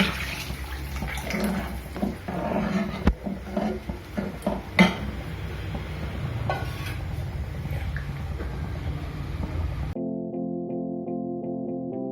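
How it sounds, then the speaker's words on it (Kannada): About two cups of hot water are poured into a pan holding ghee, while dill leaf upma is being cooked. A splashing gush mixes with clinks of pots and utensils, and a short burst of music follows. "ಇವಾಗ 2 ಕಪ್ನಷ್ಟು ಬಿಸಿನೀರನ್ನು ಹಾಕೊಳ್ಳೋಣ."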